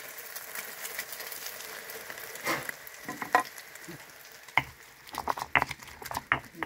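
An egg fries in plenty of hot oil until golden, with a low steady sizzle broken by scattered sharp pops and spatters that grow busier toward the end.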